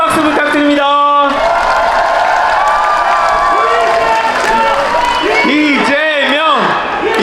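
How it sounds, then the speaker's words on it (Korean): A crowd at a political rally in Busan cheers and applauds loudly, with whoops and chanting voices rising over continuous clapping, while an amplified announcer speaks over the noise. "큰 박수 부탁드립니다."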